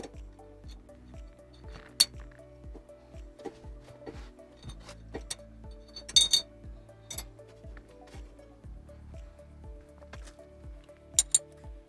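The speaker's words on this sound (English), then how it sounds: "Then put the rotor screws in." Rotor screws go into the hub of a 2009 Porsche Cayman front brake, heard as a run of light metallic clinks and ticks, close and fairly quiet, with a few sharper taps scattered through.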